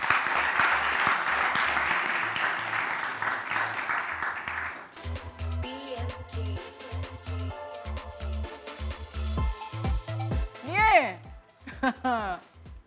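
Audience applause at a quiz competition semi-final, a dense burst of clapping for about five seconds that then gives way to a loud voice and music.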